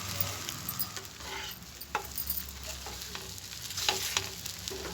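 Egg carrot dosa with pepper powder frying in a pan, a steady soft sizzle and crackle close by, with a few light clinks of a utensil and no talking.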